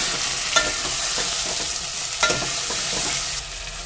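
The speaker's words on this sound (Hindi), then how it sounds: "तो फ्राई कर लेते हैं अच्छे से आलू और मटर को।" Potatoes and peas sautéing in a pan give a loud, continuous close-up sizzle, broken by a few sharper scrapes as a spatula turns them, with no talking.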